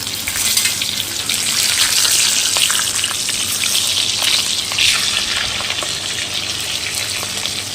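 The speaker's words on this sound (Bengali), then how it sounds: "কড়াইটা গরম মাছের মাথাগুলো আর একটু ভেজে নিই" Hilsa fish heads fry in hot oil in a wok, a loud, dense, close sizzle that holds steady with bubbling crackle and occasional stirring, no voices over it.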